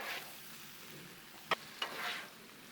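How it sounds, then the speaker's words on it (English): Sriracha chicken pasta with apricot is stirred on a hot Blackstone griddle: a faint, steady sizzle broken by two sharp spatula scrapes and a soft swish. "this is where you're just gonna continue to stir to get everything good and incorporated"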